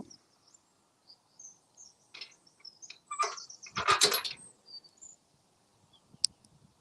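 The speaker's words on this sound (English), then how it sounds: "And the birds are telling me it's spring." Several birds chirp and trill outdoors in a quiet spring churchyard setting, scattered short calls with one busier burst of song in the middle.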